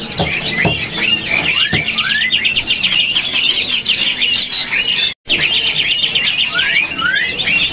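A white-rumped shama sings loudly and continuously nearby at a bird market, with rapid varied whistles and chattering trills, a brief gap near the end.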